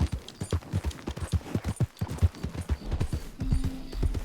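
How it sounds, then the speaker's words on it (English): Horse hooves clip-clop in quick, steady rhythm in the video game Red Dead Redemption 2, close and moderately loud, with a brief neigh-like tone near the end. "we're gonna feed our horse here"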